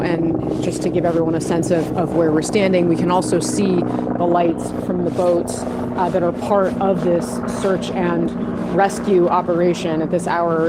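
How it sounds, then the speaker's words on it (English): Helicopters circle overhead at night above a plane and helicopter crash search site in Washington, DC, their steady rotor drone running under a reporter's continuous talk. "You can hear the helicopters overhead right now"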